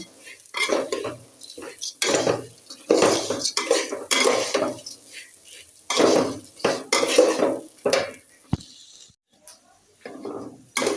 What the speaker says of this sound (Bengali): চালটা সুন্দর করে নেড়ে সেড়ে ভেজে নিচ্ছি